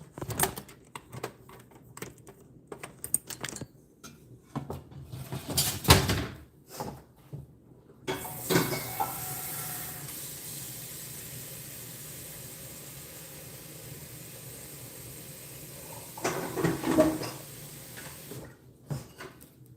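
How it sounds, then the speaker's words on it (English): Water runs from a tap into a pot for pasta in a home kitchen, a steady rushing hiss lasting several seconds after some clanks and knocks of handling the pot, then stopping with more light clatter. "I'm just going to fill this with water and get the pasta boiling"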